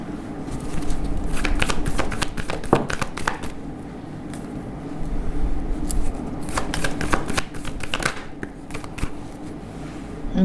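Major Arcana tarot cards are shuffled close by in repeated riffling bursts, with a quieter pause in the middle before the shuffling picks up again.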